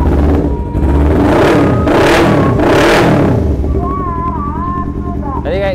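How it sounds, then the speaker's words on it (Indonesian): Sport 250cc motorcycle fitted with a short racing exhaust, revving loudly in three or four rising bursts close to the microphone, with voices talking underneath toward the end. "kalau dikasih knalpot racing apalagi yang pendek jadi gacor banget ya"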